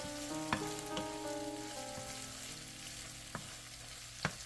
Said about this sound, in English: And then I added some minced garlic, some grated ginger, give that a mix.